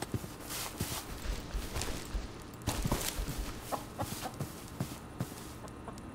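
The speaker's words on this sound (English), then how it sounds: "There's chickens." Chickens cluck softly in the video game Minecraft, their scattered calls mixing with light footstep clicks over a steady background hum.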